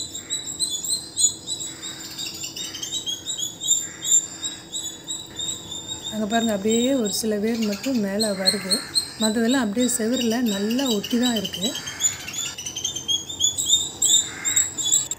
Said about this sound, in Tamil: இங்கே மயில்கள், குயில்கள், குருவிகள் ஏகப்பட்ட சத்தம் அப்படியே கேட்குது.